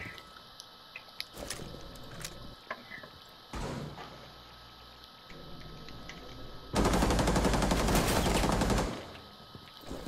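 Close gunfire in the tactical shooter Rainbow Six Siege: scattered single shots and thumps, then a sustained loud automatic burst lasting about two seconds, with faint game sounds in between.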